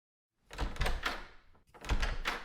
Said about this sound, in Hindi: दरवाजा खोलना, देखना कौन है।